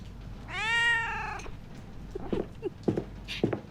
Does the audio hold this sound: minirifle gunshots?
no